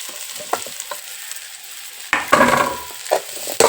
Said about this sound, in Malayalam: അപ്പോൾ ആ കൂട്ടത്തിൽ നമ്മളിതാ നമ്മുടെ ഉരുളക്കിഴങ്ങ് കൂടെ ഇട്ട് കൊടുക്കണേ.